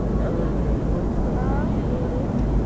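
An airplane drones overhead, heard as a low, muffled, steady rumble from a distance through a window, with no talking over it.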